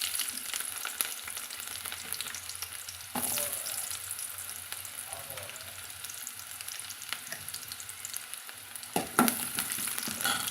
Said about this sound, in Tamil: எண்ணெய் காஞ்சதும் கடுகு நல்லா பொரிஞ்சதும் நம்ம வெட்டி வச்சுக்கிற சின்ன வெங்காயத்தை சேர்த்துக்கலாங்க.